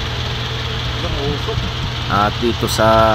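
A Toyota 2E car engine idles with a steady low hum, while someone talks over it throughout.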